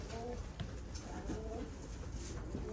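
Rostov pigeons, a young show breed, cooing in a loft: soft, low repeated coos under steady background noise and a voice talking over them.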